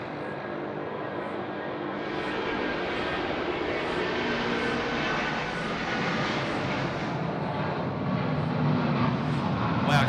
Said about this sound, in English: we've got Vietnam Airlines. Yep. A350 900 landing just behind.